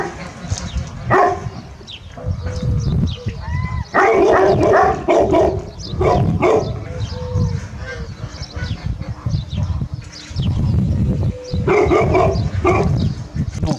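A large male Turkish Kangal shepherd dog barks in bursts outdoors, deep barks mixed with other dogs' yelps and noisy background, with people talking at times.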